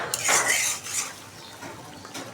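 Spice masala being stirred and fried in a pot, with metal utensil scraping and clanking against the pot over a low frying hiss, close and irregular.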